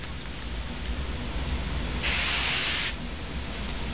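A short hiss of aerosol spray onto wipe paper for a drug detection test lasts about a second over a steady background noise.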